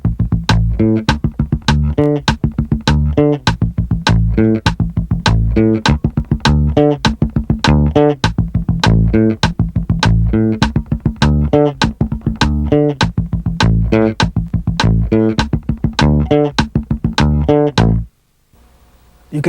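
Fingerstyle funk bass line, laced with percussive ghost notes, plays a tight, steady sixteenth-note groove loud and alone for about eighteen seconds before stopping abruptly.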